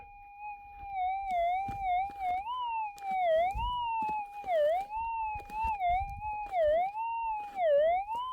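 A warbling electronic tone from a Minelab GPX-5000 metal detector with a Coiltek Elite coil in the goldfields wavers up and down continuously, dipping in pitch repeatedly, with faint rustling and digging thumps underneath.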